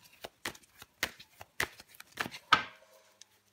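Tarot cards being handled and laid down during a reading, a string of crisp, close snaps and slaps with short pauses between them, quiet and without talk.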